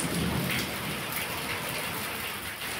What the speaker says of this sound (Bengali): দেখো কি সুন্দর মেঘ ডাকছে, সকাল থেকে বৃষ্টি একদম উপভোগ করছি